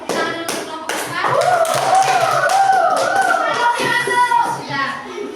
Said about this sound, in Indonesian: Oke, tepuk tangan dulu untuk kelompok 4.